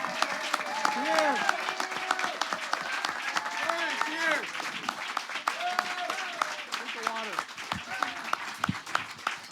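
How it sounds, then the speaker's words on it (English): Audience applause with scattered cheering and voices, a steady clapping wash throughout with speech-like tones rising over it. "let's give a round of applause for everybody who's doing this work"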